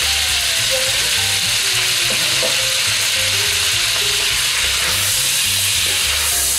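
Garlic cloves, a rosemary sprig and thinly sliced small onions frying in a pan, a dense steady sizzle with faint scraping and clicking in the background, no talk.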